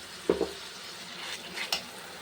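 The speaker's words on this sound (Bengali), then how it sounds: "হলুদ, কাশ্মীর লঙ্কার গুঁড়ো, গোলমরিচের গুঁড়ো, লবণ আর জিরের গুঁড়ো, একটু জল দিয়ে দিলাম। এটা একটু কষিয়ে নিই।" Spices such as turmeric, Kashmiri chili, black pepper, cumin and salt with a little water being sautéed in a pan for fish biryani, soft sizzling with a few brief stirring scrapes and light clinks, faint and close.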